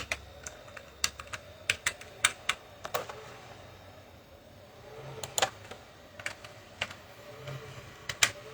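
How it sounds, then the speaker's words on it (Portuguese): Typing on a computer keyboard indoors: a series of crisp, irregular key clicks in bursts, with a short pause near the middle, close and fairly quiet against a soft background hum. "Estou digitando aqui para ver se entra tudo"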